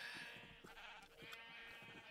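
Minecraft sheep bleating in the video game, a few faint, wavering bleats repeating over a steady background hum, quiet and close.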